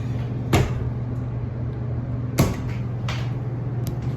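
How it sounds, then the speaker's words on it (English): Westinghouse hydraulic glass elevator door in a mall closing, with two sharp thuds about two seconds apart over a steady low machinery hum, then a fainter knock near the end. "Nice door close on Westinghouse."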